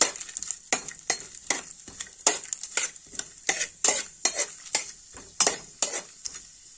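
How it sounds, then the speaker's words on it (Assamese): Cashew pieces fried in a pan make a rhythmic series of scraping stirs, each stroke bringing a short burst of sizzle, close and fairly quiet with no talk. "মই ইয়াতে কাজু কেইটামান টুকুৰা কৰি লৈছিলোঁ এইকেইটা দি এইকেইটাও মই এইখিনিতে ধুনীয়াকৈ ভাজি ল'ম"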